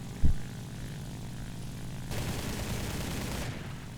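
A propeller aircraft drones through the air in the War Thunder video game, a steady, fairly faint engine wash that swells louder midway, with a single sharp bang near the start.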